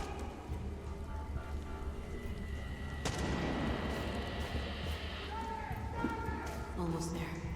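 Gunfire bursts out in the video game Far Cry, a sharp blast that gives way to rattling shots amid game noise, with voices talking over it.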